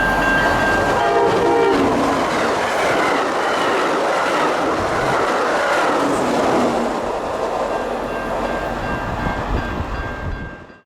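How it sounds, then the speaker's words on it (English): An Amtrak train hauling a rake of Amfleet passenger cars coasts into a station, a loud continuous rumble and rail rolling noise with a steady high tone running throughout, fading out at the end. "coast into the station with a shiny rake of Amfleets"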